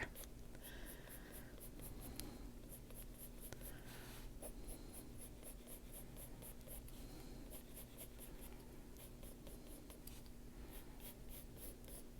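Colored pencil drawing sharp little lines on paper for a wildflower folk portrait, producing steady, close scratchy strokes in quick repeated bursts throughout, with a low background hum and no talking.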